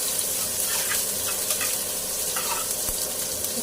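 Onions and green chilies sizzling steadily in hot oil in a pan, with soft stirring scrapes and faint clinks running throughout, close and fairly quiet.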